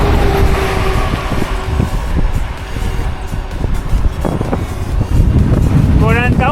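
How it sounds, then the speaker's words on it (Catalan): Strong mistral wind buffets the microphone while cycling on a rural greenway, a loud continuous low rumble with gusty surges throughout. "el vent de dalt, el mestral o cerç com li diuen així, que està pegant ara molt fort"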